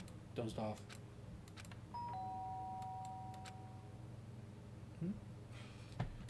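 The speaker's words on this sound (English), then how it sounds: "Sharp sound of the doorbell pierced my sleepy haze as I pulled back to the real world." A doorbell chimes in the video game Danganronpa: Trigger Happy Havoc, two sustained electronic tones ringing clearly over a steady low background hum, with a few short clicks before and after.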